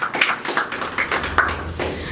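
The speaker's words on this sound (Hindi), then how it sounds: "एक बार जोरदार ताली भाई के लिए।" Audience clapping for a performer at an open mic in Delhi, a brief patter of scattered claps that stays fairly quiet and steady with no voices over it.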